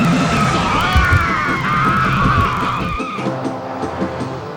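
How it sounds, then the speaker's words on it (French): A taxi car pulls away with its tires skidding and squealing in a loud, sustained screech, engine roaring underneath, fading to a lower rumble near the end. "Là, c'est leur voiture."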